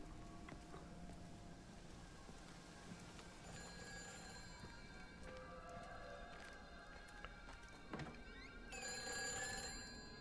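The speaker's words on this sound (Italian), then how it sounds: "c'è un telefono che squilla" A telephone rings in the game Everybody's Gone to Rapture, set at Lakeside Holiday Camp. The ring is faint and repeating beneath a dense, busy ambient bed, growing slightly louder near the end.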